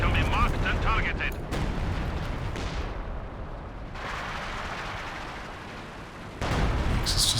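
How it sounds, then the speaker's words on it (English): A Stuka barrage in a Company of Heroes 2 match lands as loud booming explosions and rumbling blasts in a heavy burst at the start and again near the end, with a duller rumble between and a voice talking over parts of it. "Making Stuka barrage in."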